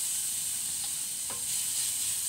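Meat sizzles as it goes into a frying pan with little oil while sautéed vegetables are being cooked: a steady, bright hiss of frying with faint stirring scrapes underneath.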